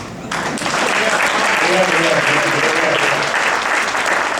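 An audience claps steadily at a Hindi humor poetry gathering in Phoenix, Arizona, dense applause that starts abruptly and holds at an even level with voices mixed in.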